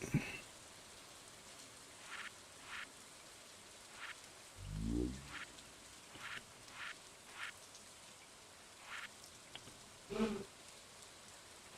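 Light game rain in Stardew Valley Expanded, a faint steady patter carrying scattered soft drop and chime-like ticks, with a brief low rising tone partway through.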